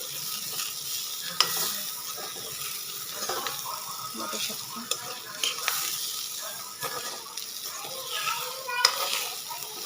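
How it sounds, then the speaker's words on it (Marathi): Jackfruit masala bhaji stirred and frying in a pan, a continuous soft sizzle with scraping spatula strokes and occasional sharper knocks against the pan. "असं परतत परतत राहायचं"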